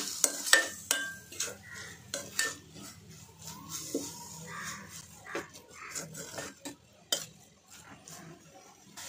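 A spatula scrapes and stirs cooked methi (fenugreek) bhaji topped with coconut in a pan, giving irregular close scraping and clinking strokes over a faint sizzle.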